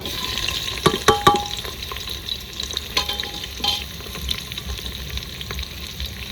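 Onions frying in hot oil with bay leaves in a rustic village-style mutton dish, a steady sizzle with a few sharp spatula clinks and stirring scrapes near the start.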